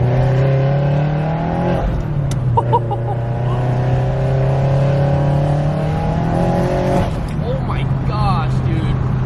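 A turbocharged Subaru WRX engine hums and rises in pitch as it revs up, drops briefly, then climbs again, heard from inside the vehicle with a voice speaking over it.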